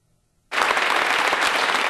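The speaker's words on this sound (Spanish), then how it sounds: "Aplauso tras aplauso" After a brief hush, loud applause bursts out all at once at a local Red Cross ceremony honoring community heroes, then continues as a thick, even roar of many clapping hands.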